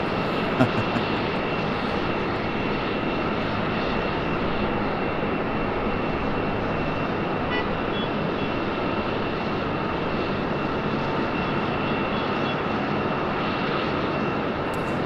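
Airliner departing Raleigh-Durham International Airport, a loud, steady jet engine roar with a constant broadband rumble that holds without fading.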